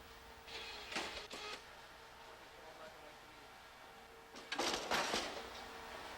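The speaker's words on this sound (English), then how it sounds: "This is a printer being set up for a new size of film." A film printer being set up for a new film size hums steadily with a low tone, broken by two bursts of whirring and clattering, one early and a louder one near the end.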